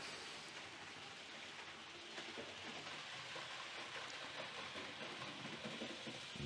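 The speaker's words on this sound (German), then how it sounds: "Dann kommt der ICE angerauscht, fährt jetzt hier über meine Brücke in diesen Bahnhof, Gleis 5" A model ICE train on a layout rolls over a bridge into a station track, a soft continuous rumble and rattling hiss of wheels on rails, faint and steady with slight swells, no talk.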